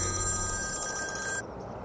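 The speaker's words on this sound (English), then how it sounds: "Phone's ringing." A telephone bell rings steadily and loudly, then cuts off abruptly near the end, leaving quiet room noise.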